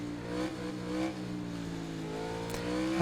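Suzuki motorcycle engine in a MotoGP 19 racing game, a sustained high-pitched whine that rises and falls as the bike revs and shifts, steady and fairly loud, with no talking.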